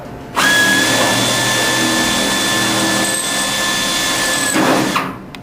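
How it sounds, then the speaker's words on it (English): A power drill bores a match-drilled hole through an aircraft boot cowl, starting abruptly with a loud, steady high-pitched whine that holds for about four seconds before spinning down and stopping, with no voices. "Drill it."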